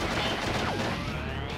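Rapid gunfire in a video game, a dense burst of shots and crashing impacts filling the short moment, loud and continuous with no talking.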